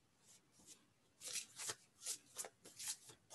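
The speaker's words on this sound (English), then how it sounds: "I'm just gonna shuffle this way." Playing cards are shuffled by hand in several quick riffling bursts, close and fairly quiet, with soft rustling between them.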